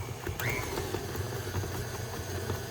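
A KitchenAid stand mixer whips sugar-free chocolate cake batter, giving a faint, even motor hum with a slight rhythmic churn throughout.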